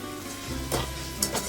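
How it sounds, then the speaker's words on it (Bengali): Potatoes frying in oil in a wok on lowered heat give a steady, close sizzle, with a few brief louder bursts of crackle partway through. "কড়াই তেল দিয়ে দিচ্ছি এবার আমি আলু ছেড়ে দিচ্ছি"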